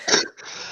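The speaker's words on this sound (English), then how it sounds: "I'm sorry for all the coughing." A single short, harsh cough close to the microphone, followed by a brief wheezy breath in a quiet room.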